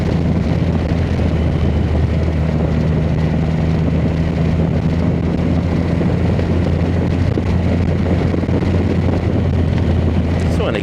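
Triumph Rocket 3 GT motorcycle cruising in third gear, a steady low engine drone mixed with heavy wind rush throughout, without pause.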